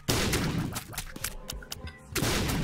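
Explosions in The Binding of Isaac: Afterbirth, a burst of sharp bangs and thuds followed by scattered pops and crackles, then another loud blast near the end, punchy and close.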